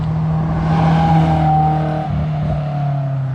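A Honda S2000 fitted with a J's Racing test pipe drives past, its steady engine drone rising as it approaches and fading as it moves away, loud and close with no talking.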